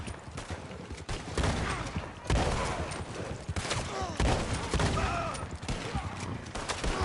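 Rapid bursts of gunfire aimed at a wagon tire in Red Dead Redemption Online, loud and dense, with sharp shot transients mixed with game noise and some speech.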